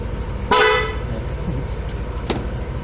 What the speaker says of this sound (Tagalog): Tapos sa busina, lagyan natin ng stock at saka loud ito.